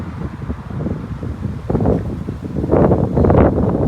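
Steady wind buffets the microphone, rushing and gusting louder in the second half, with no talking.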